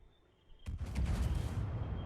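Heavy warship guns fire in a naval game as HMS Thunderer shoots at the Kurfürst, a sudden loud booming salvo that breaks a quiet moment and rumbles on with dense low crackling.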